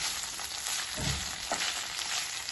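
Sorrel leaves being stirred in a pan for a Telangana-style chutney, giving a steady close sizzle and frying hiss with soft scraping strokes of the spoon every so often.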